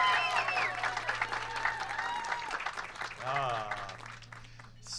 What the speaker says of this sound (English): Give him those most applause.